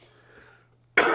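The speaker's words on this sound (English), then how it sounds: "Cue the cough." A single sharp cough bursts out loud and close at the very end, following a near-silent stretch with a faint low hum, during a live online Q&A stream.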